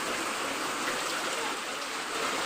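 Steady, dense rain pours over a parked car during a monsoon downpour, a constant close wash of water with no break and no distinct drops.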